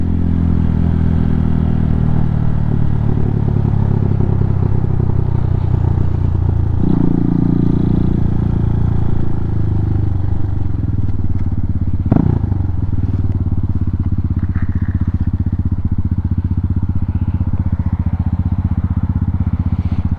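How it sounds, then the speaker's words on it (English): Honda Hawk 250 motorcycle under way, its loud exhaust drone steady and close for the whole stretch, with wind rumble and a brief thump partway through. "Jeez, that exhaust is so loud."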